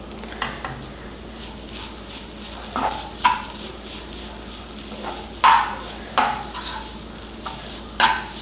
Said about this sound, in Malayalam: അതിട്ട് ജസ്റ്റ് ഒന്ന് ഇളക്കി കൊടുത്താൽ മതിയാകും